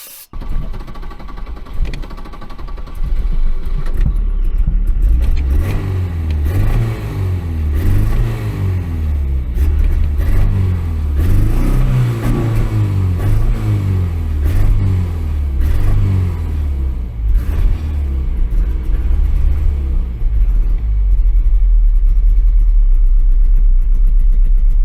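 A cheap, tired Volvo car engine is started and then revved up and down in a quick, repeating pattern, loud and close, before holding a rough, steady rumble.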